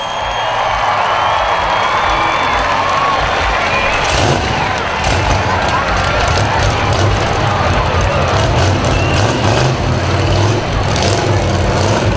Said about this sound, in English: Let's give Bobby a round of applause.